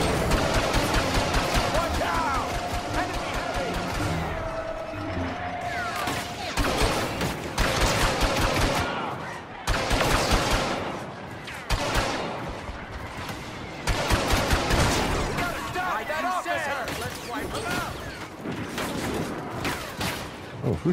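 Rapid blaster gunfire from a Star Wars Battlefront II PS5 campaign mission, dense overlapping bursts of shots crackling loudly and continuously throughout, with brief lulls between volleys.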